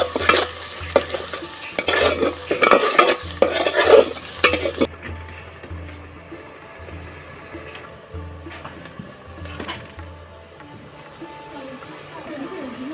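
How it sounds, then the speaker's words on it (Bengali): Onions frying in a pan until light brown, stirred loudly with scraping for the first five seconds before settling into a softer, steady sizzle with occasional stirs and a faint voice. "পেঁয়াজটি হালকা বাদামি করে ভেজে নিব"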